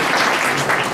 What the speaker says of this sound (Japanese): これちょっと皆さん拍手で